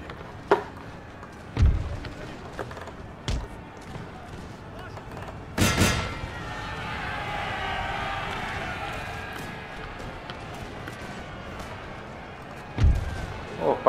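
Cannon fire on a Napoleon: Total War battlefield: a few scattered heavy booms, one loud broadband blast near the middle, over a steady murmur of battle noise and distant troops.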